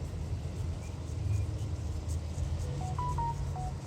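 Wheat harvester running in a field during cutting, a steady low engine rumble throughout with faint short beeping tones near the end.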